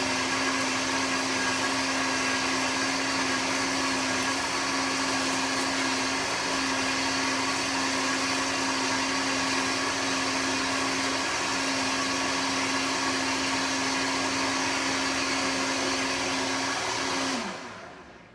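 A blender whirs steadily while blending a green smoothie with kale, a loud, continuous motor drone lasting about seventeen seconds before it cuts off abruptly near the end. No one talks.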